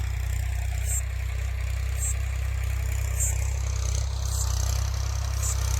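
Tractor engine running in a field, a low steady chugging drone close by with faint rhythmic clatter over it.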